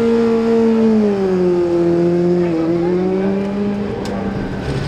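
A classic superbike leaving the pit at the Classic TT race, a loud engine tone holding steady then gliding down in pitch as it pulls away, close and dominant.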